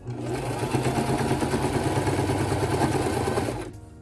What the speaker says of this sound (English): Again, we're gonna sew forward